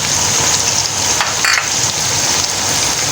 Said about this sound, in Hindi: और इसको हम इन चीज़ों के साथ चिकन को फ्राई करेंगे अच्छा सा।